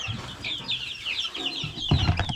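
A brood of seventeen young chicks being moved into a bigger coop, peeping in a fast, continuous chorus of high chirps close by, followed near the end by a burst of handling and rustling.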